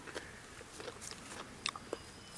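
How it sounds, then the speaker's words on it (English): Crisp crunching bites into a cold fermented pickle straight from the fridge, a few sharp crunches close to the microphone over a quiet room. "Hear the crunch?"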